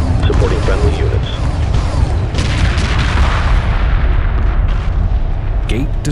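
A hyperspace gate blows up amid a space battle in Homeworld 2 Remastered, with a loud sustained rumble of explosions and weapon fire, dense booming bursts layered throughout and a radio voice speaking over it.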